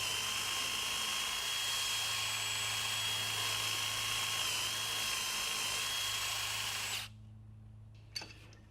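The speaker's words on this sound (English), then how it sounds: "drill 3/8 holes through each tenon" A power drill whines steadily at high speed boring 3/8-inch holes through wooden tenons for breadboard ends, then stops abruptly, leaving a few faint clicks and a short knock.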